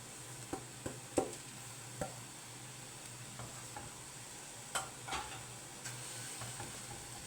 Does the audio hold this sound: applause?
no